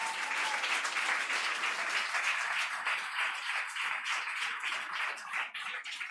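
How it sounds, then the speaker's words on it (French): A church congregation claps and applauds to acclaim God during a Sunday worship service, a dense, steady wash of many hands close by, sustained throughout with no break. "Est-ce qu'on peut acclamer Dieu pour cela?"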